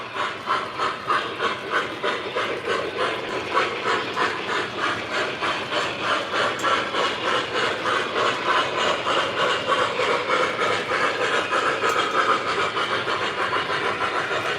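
A model steam locomotive runs continuously with a rhythmic, pulsing hiss of chuffs, loud and close, with mechanical clatter underneath and no pauses.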